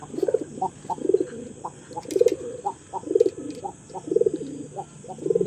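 A king pigeon coos repeatedly up close, giving a regular series of soft, throaty, rolling calls about once a second, clear and loud over a faint steady background hum.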